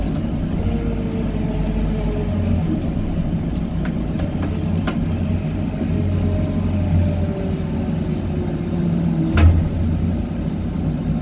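A Magni TH6-20 telehandler runs with a steady low engine rumble and hydraulic whine as its boom extends, with a few brief higher clicks and a slight swell near the end, close and continuous with no talking.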